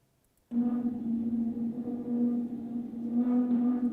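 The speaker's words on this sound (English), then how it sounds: "So there is the background turbulent noise you can hear" A low droning hum with a roaring turbulent rush of combustor noise starts suddenly and continues, its loudness wavering with intermittent combustion as if straining to catch.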